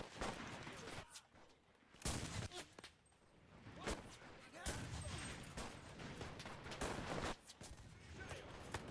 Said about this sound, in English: I'm just shooting now.